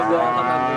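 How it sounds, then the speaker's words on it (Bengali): Cattle lowing at a large Bangladeshi cow market, a sustained close moo with rich harmonic tone lasting under a second over busy crowd background. "অসাধারণ কটা গরু ভাই"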